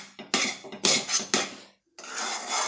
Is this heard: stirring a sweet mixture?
yes